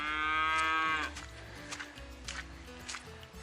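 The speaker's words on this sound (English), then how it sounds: "Oh, there are even cows at that height." A cow lows loudly and close by in high-altitude Peruvian countryside, one long drawn-out moo lasting about a second, followed by quieter scattered knocks and movement sounds, with speech present.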